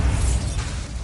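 A Bombarda explosion spell goes off in a Harry Potter video game: one short, loud, heavy blast with a deep low rumble filling the moment.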